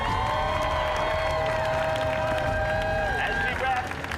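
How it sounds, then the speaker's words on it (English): A film crew applauds and cheers at a picture wrap on the Jurassic World: Dominion production, a continuous wash of clapping and crowd noise with tonal music layered over it. "Huge round of applause as we wrap Izzy."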